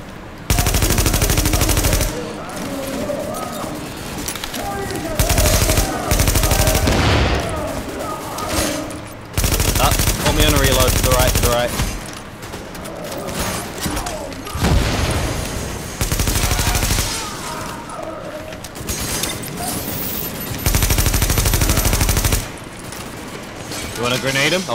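Gunfire in The Division video game, bursts of automatic machine-gun fire repeating loudly throughout with brief pauses between volleys, dense and continuous over other game sounds.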